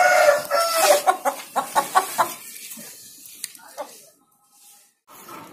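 A chicken, among roosters and hens, clucks and squawks in a run of sharp, loud calls while held in a person's hand, then fades to near quiet; someone talks over it.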